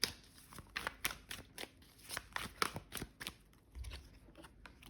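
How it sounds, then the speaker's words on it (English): Tarot cards being shuffled give quiet, close, rapid papery flicks and snaps in irregular bursts, with a soft low thump near the end. "Love it when cards flip out by themselves."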